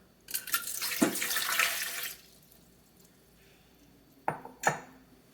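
Warm water pours into a bread maker pan for about two seconds in a steady splashing stream, then a pair of short metallic knocks follows as the pan is handled.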